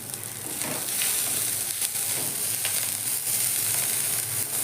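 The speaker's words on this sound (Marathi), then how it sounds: "कोथिंबीर घालून छान परतून घ्यायची आहे आपल्याला" Chopped coriander mixture sautéing in a hot pan for a Marathi breakfast dish, a dense steady close sizzle with light stirring scrapes throughout.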